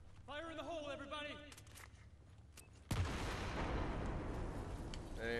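A C4 charge detonates in the video game Battlefield 4, with a sudden loud blast followed by a sustained roaring rumble. Shouted talk precedes it.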